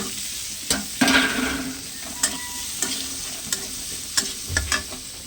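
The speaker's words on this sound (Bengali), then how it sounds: "এবার দিয়ে দিচ্ছি কাঁচা লঙ্কা রসুন আদা বাটা" Green chilli, garlic and ginger paste fries with onion in a kadai, a steady sizzle broken by sharp scraping strokes of a spatula stirring the pan, close and clear without speech.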